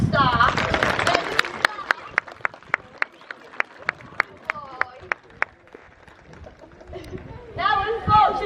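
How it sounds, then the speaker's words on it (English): Audience applause at a sea lion show, opening under voices, then a sequence of sharp regular slaps or claps in the middle, and talk returning at the end. "But take your applause."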